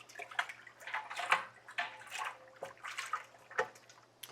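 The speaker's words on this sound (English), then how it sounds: "Let's give that a little stir right out the gate." A spoon stirring two pounds of brown sugar into an apple pie moonshine mash with cinnamon sticks: soft sloshing and liquid swirls in uneven strokes, close by and fairly quiet.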